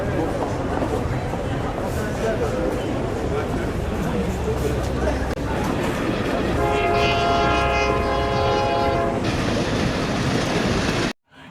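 A train rumbles past with a continuous loud roar and clatter of wagons, and a long horn blast sounds midway before the noise cuts off abruptly at the end.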